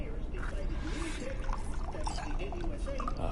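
Water pouring into a glass inside a PS4 video game, a steady close trickle running the whole time over soft game background sound.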